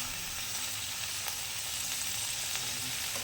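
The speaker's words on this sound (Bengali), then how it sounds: "জাস্ট এটা হালকা করে ভেজে নেবো" Green chilli and ginger frying in oil in a pan while making paneer butter masala give a steady, close sizzle that holds evenly throughout, with no talking over it.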